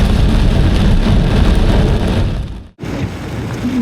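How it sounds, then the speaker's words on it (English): Heavy torrential rain from a supercell thunderstorm over Northumberland pours down steadily and loudly, a dense continuous roar with a brief dip before resuming. "I'm currently riding out this storm just outside of Bellingham in Northumberland."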